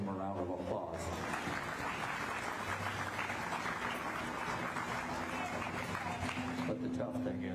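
An audience at a county beef show breaks into steady applause, a sustained spread of clapping from a crowd, fairly faint and continuous, with some speech mixed in.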